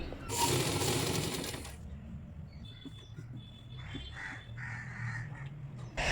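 A sewing machine stitches a nightie in one loud, steady burst for the first couple of seconds, then stops, leaving quieter handling noises and faint background sounds.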